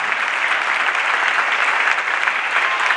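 A crowd at a 2016 music event applauds the composer of a song, a continuous, even wash of clapping filling the space at moderate loudness from start to finish, with no voices standing out.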